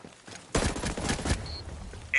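Burst of gunfire in the Ghost Recon Breakpoint video game, a rapid run of shots lasting under a second over a dense game soundscape.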